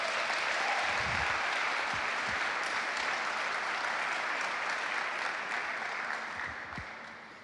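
A church congregation gives loud, continuous applause during a service, a thick roar of clapping that holds steady and fades slightly near the end.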